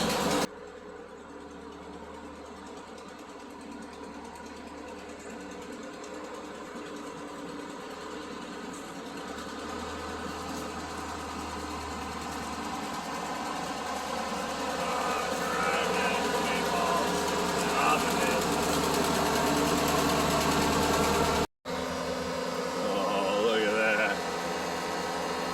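A tractor's engine idles steadily after a cold start, a continuous low rumble with even harmonics that grows slightly louder over time, briefly cutting out near the end before resuming.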